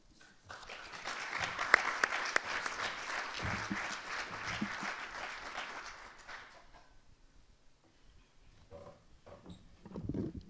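An audience claps warmly to welcome a Title IX coordinator to the podium at a keynote panel, a steady round of applause lasting several seconds before fading into quiet room sounds.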